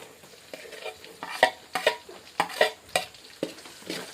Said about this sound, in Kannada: ಸ್ವಲ್ಪ ಇದನ್ನು ಎಣ್ಣೆಗೆ ಫ್ರೈ ಆಗಂಗೆ ಚೆಂದಾಗಿ ಮಿಕ್ಸ್ ಮಾಡ್ಕೊಳ್ತೀನಿ ರೀ